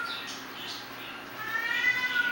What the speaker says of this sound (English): Oh, getting all wound up from hearing that other cat.